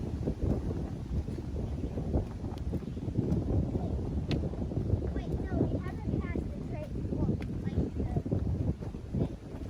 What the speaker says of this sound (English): the wind is absolutely crazy today, so I hope you can hear me over the wind.